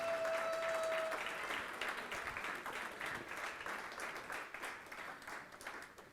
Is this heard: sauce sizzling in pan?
no